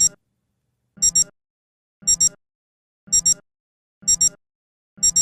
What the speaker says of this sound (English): With the alarm turned on, the alarm tone will sound for 15 seconds at the time set.